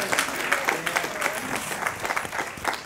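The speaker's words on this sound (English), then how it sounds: "So give those four students a round of applause." Audience applause for four Fort Valley State University students at a scholarship banquet, a steady dense clapping from a roomful of people that continues evenly for about three seconds with no talk over it.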